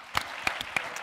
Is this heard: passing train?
no